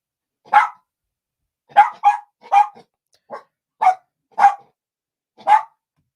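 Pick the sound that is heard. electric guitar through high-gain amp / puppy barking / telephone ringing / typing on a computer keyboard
puppy barking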